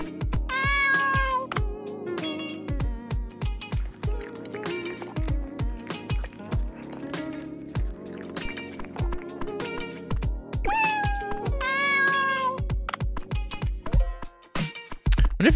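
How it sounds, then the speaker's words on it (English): A cat in the video game Dave the Diver meows repeatedly while being fed, short bright meows in several bursts over a rhythmic thumping game soundtrack. "Let's feed the kitty."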